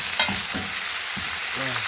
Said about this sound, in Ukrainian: а тут бляха вже шкварчить, бачиш?